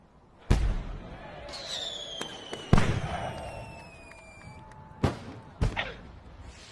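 Scattered fireworks pop and crackle at a distance, with sharp bangs and whistling trails rising between them, a faint murmur of voices underneath.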